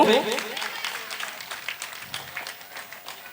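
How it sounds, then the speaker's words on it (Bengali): Audience applause for meritorious students at a Rabindra Jayanti honours ceremony, a steady wash of clapping from a crowd that starts strongest and carries on evenly, with a voice briefly over it at the start. "একবার আরো জোরদার হাততালি আমি চাইব।"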